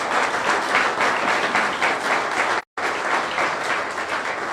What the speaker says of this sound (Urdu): یسوع کے جلال کے لیے زوردار تالی